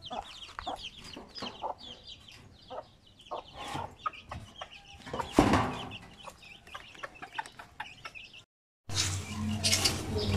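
Several chickens cluck in quick, irregular bursts at close range, with scratchy rustling in between and a brief gap of near silence before the noise resumes.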